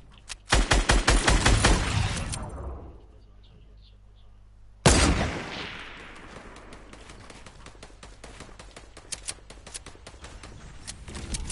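Bursts of rapid gunfire in a PS4 shooter game, a loud volley at the start, a pause, then another sharp burst trailing into scattered shots.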